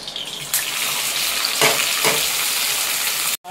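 Masala spices, green chillies and onions sizzle loudly in a hot pan for fish curry, a steady frying hiss with a couple of brief stirring bursts and a sudden stop near the end.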